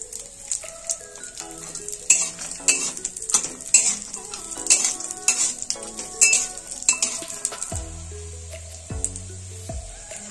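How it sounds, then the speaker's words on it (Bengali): Cashews and raisins frying in melted ghee in a pan, with a soft sizzle under busy clinking and scraping of a spoon stirring, close and fairly loud, ending in a few deeper knocks. "ঘিটা গলে গেলে এর মধ্যে আমি কাজু কিশমিশটা হালকা ভেজে নেব।"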